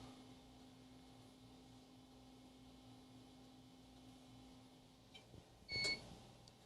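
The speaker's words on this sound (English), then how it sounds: "that beeped" A Data General computer terminal lets out a single short electronic beep near the end, following several seconds of low steady equipment hum and a faint click.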